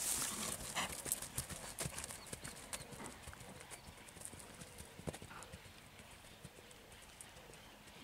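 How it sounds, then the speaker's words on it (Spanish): A young pony mare, a children's school pony, gallops with a long stride, her hoofbeats coming in quick, steady clip-clop rhythm at moderate distance over a soft outdoor background. "Un galope bastante largo por ser petiza, ¿eh?"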